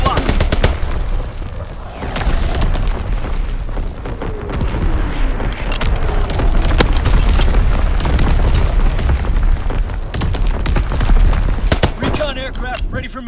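Artillery barrage in Call of Duty: WWII on the Pointe du Hoc map, heavy booms and explosions rolling continuously with scattered gunfire crackling over rumbling low impacts, loud and close.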